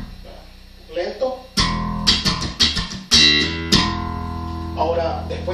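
Bass guitar played slowly with slap and tap technique, a sequence of sharp percussive plucked notes with ringing low tones and a few brighter popped accents, close and clear with no talking.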